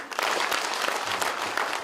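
An audience at a military veterans' chapter launch applauds a treasurer, steady crowd clapping filling the whole moment at close to moderate distance with no talk over it.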